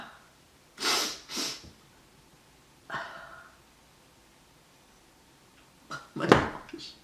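A woman in the middle of a sneezing fit, with two quick bursts close together, a lone sneeze a moment later, then a final loud, forceful one after a pause, separated by near silence.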